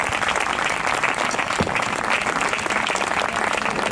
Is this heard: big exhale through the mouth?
no